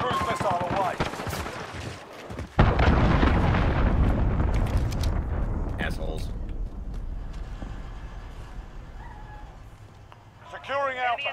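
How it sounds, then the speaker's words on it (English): A cruise missile explodes in a war video game, a sudden loud boom followed by a long rumbling roar that slowly fades, with gunfire and voices around it. "Allied cruise missile away."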